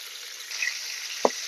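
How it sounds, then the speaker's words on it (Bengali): Pointed gourd (potol) pieces fry in a pan with salt over medium heat, making a steady, close sizzling hiss with one sharp little tick partway through. "শুধু লবণ দিয়েই পটলটাকে ভাজবো। মিডিয়াম আঁচে রাখি পটলটাকে আমি এপিট ওপিট ভেজে নেব"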